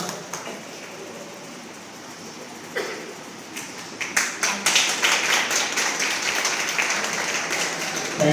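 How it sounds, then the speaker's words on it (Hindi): Audience applause at an award ceremony honoring 600 COVID warriors, starting as scattered claps and swelling into dense, sustained clapping from a large crowd. "तालियों में कंजूसी ना करें भाई"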